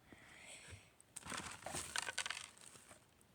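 Quiet crinkling of a toy's plastic bag and paper instruction sheet, with a burst of rustling and crumpling in the middle that builds, then fades, handled close by.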